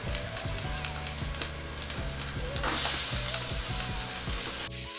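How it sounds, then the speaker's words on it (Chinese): Onions stir-fry in hot oil with garlic, a dense steady sizzle with repeated stirring scrapes and a louder surge of hiss partway through, recorded up close over faint background music. "下洋葱，然后把洋葱炒到有点金黄色。"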